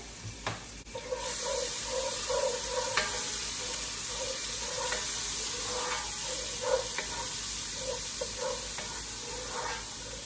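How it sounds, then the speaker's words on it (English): Garlic sizzles in a pan as a spoon stirs it, a steady hiss that swells in after a quiet start, with repeated scraping and clinking strokes throughout. "So let me get my spoon and start stirring."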